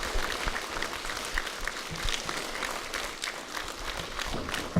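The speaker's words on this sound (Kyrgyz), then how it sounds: "Şu кол чаап койгулачы." An audience at a lyceum event applauds, dense sustained clapping from many hands, loud and even throughout with no talk over it.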